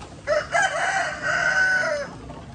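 A rooster on a farm with egg-laying hens gives a single loud, close crow lasting about two seconds, with no talking.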